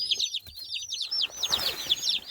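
Dense chorus of high, rapid peeping from many broiler chicks chirping at once close by, continuous and shrill with no talking.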